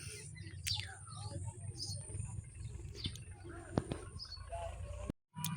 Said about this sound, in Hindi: अब देखें, ये इस पोजीशन में चल रहे हैं कबूतर